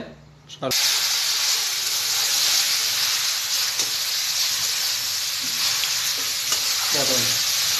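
Pasta sizzles and hisses loudly in a hot pan as a little sauce is added, a sudden burst of steady frying noise that holds close and dense, with a voice talking briefly at the start and end.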